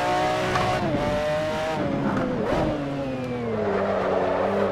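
Race car in Assetto Corsa with a standard gearbox, engine droning loud and steady with rising and falling pitch through gear shifts, tires faintly squealing, continuous and close with no talking.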